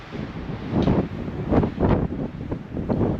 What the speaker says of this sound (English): But man, this wind is picking up.